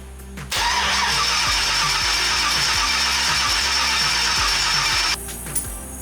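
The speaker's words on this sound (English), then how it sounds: "So let's try that, give it a crank, and see what happens." An LS-swapped Nissan 350Z cranks for about four and a half seconds without catching, the starter churning in a steady rhythmic chug before cutting off, loud and close.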